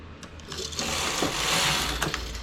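A knitting machine carriage working rows for a hair ornament, a close mechanical whirring sweep that swells and fades over a couple of seconds with small clicks at the start and end, no talk.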